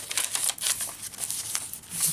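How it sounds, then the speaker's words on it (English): Notebook paper being handled and pushed into a handmade garden journal, close crisp rustling and crinkling in quick bursts with short pauses. "Get in there, you notebook paper."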